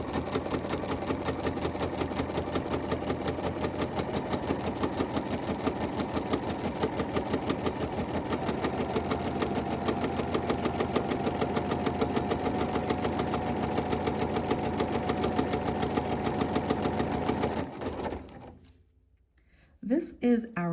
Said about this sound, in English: we are going to continue sewing